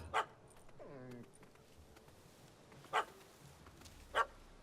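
A dog barking in the video game The Witcher 3: Hearts of Stone, three short sharp barks spaced apart, with a brief whimpering whine early on and quiet ambience between.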